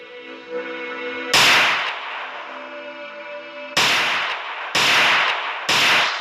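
Gunfire from a gun mod in Minecraft: loud, sharp single shots with ringing tails, one early and three more spaced near the end, over a faint tonal hum.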